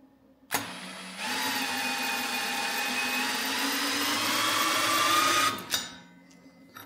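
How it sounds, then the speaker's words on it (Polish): A cordless drill spins up a Vevor 12V 800W wind turbine, a loud steady whine with rising harmonics that holds for about four and a half seconds before cutting off abruptly. "Nie wiem, czy w ogóle wkrętarka będzie w stanie dać radę."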